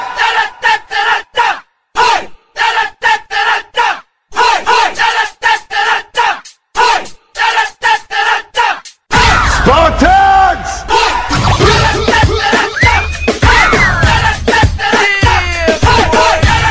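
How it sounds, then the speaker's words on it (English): A large crowd screams and cheers at a cheerdance championship, first in rhythmic bursts answering an announcer's voice over a PA, then in a sustained loud roar. "If you're ready to party, let me hear you scream."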